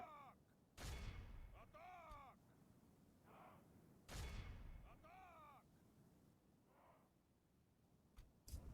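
Units in a Total War battle fire on an enemy unit, with two loud volleys several seconds apart, each a sharp crack with a short rumbling tail, amid faint battlefield voices and scattered quieter sounds.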